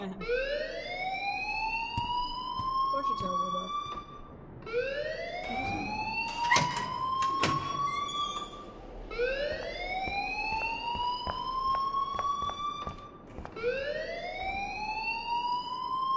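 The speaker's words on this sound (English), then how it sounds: "please turn off that alarm since that's your job" The fire alarm in Life is Strange wails steadily as a rising electronic siren. Each upward sweep lasts about four seconds and repeats continuously over a busy background, with scattered sharp clicks and brief tones.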